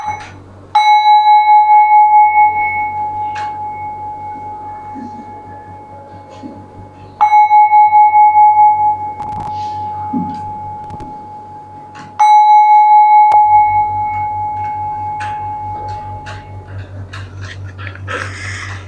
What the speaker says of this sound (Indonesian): mari kita mengundang Genta terlebih dahulu